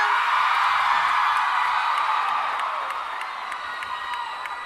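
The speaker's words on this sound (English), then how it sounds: "Please keep your applause going" A Comic-Con panel audience for the Once Upon a Time cast claps and cheers steadily, a dense, hissing wash of applause with scattered whoops that slowly fades toward the end, no talk over it.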